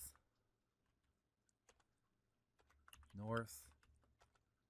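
Quiet computer keyboard typing in short bursts of clicks, with a brief spoken word in the middle.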